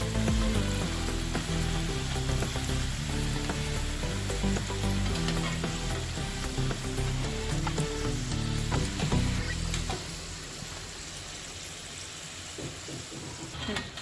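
Spicy pea karanji, stuffed pastries, frying in hot oil, a loud continuous sizzle with clattering stirring that quiets to a softer bubbling near the end.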